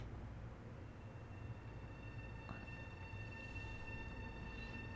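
A Long Island Rail Road train in Train Sim World 2 runs at max power, a steady low rumble of wheels and motors with faint whining tones rising above, continuous and even throughout.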